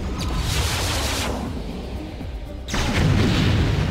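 Heavy mech weapons fire in the video game Mechwarrior 3, a loud, sustained barrage of booming blasts and rumbling impacts with a brief lull before the firing intensifies again.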